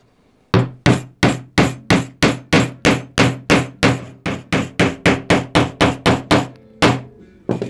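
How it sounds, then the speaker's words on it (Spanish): A hammer drives nails to fix wooden legs onto a homemade bonsai turntable base, about twenty sharp, evenly spaced strikes in a steady rhythm, close and loud with only a short pause near the end. "yo me voy a poner a clavarle las patitas a esta base del torno"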